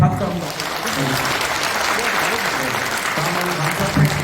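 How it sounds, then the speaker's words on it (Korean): Congregation clapping at a Christian prayer breakfast service in a National Assembly conference hall, a broad wash of applause lasting a few seconds with voices murmuring beneath it. "우리 모든 분들을 위해서 박수 한번"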